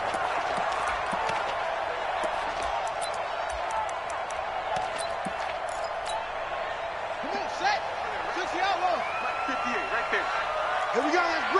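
Steady roar of a stadium crowd cheering in an NFL video game before a Chicago Bears versus Arizona Cardinals matchup, a dense continuous wash with occasional louder swells and whoops, with talking over it.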